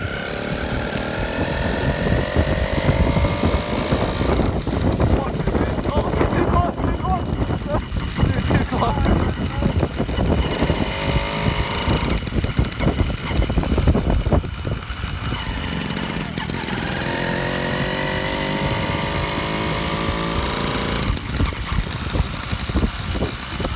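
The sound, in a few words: 66cc motorised bicycle engine towing a trailer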